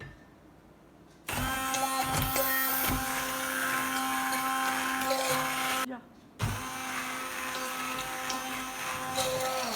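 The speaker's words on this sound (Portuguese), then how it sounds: "vou usar o meu mix direto na panela" An immersion hand blender whirs directly in a pot of sauce on the stove, starting with a loud buzzing whine, stopping briefly, then running again, with a quiet voice faintly underneath.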